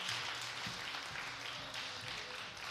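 Audience applause after a stage performance at an annual event, a steady wash of many hands clapping at a fairly faint, distant level, with no clear voices.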